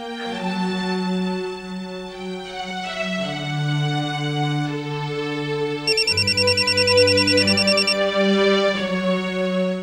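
A phone ringtone plays a loud, repeating electronic melody of sustained tones that shift pitch in steps, heard alone throughout without any talking.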